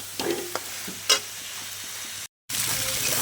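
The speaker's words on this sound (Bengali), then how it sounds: "এবার ভেজে রাখা এঁচোড় আর আলুটা দিয়ে দেবো, দিয়ে আমি আবারও ভালো করে ভেজে নেব।" Jackfruit, potato and chana dal frying in spiced oil in a pan, a steady close sizzle broken by a few stirring scrapes and a brief gap.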